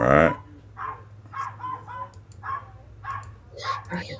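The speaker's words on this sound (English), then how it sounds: "Somebody's dog's going nuts." A dog barks excitedly in the background during a livestreamed tabletop game session, a series of repeated yips and barks in quick succession, moderately faint over a steady hum.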